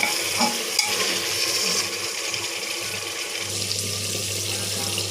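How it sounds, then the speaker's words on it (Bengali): Meat cooked with chopped spices in a pan gives a steady sizzle with scraping stir strokes, close and fairly loud, with a low hum in the background. "গোশটা আমি এখন কষাই নিচ্ছি"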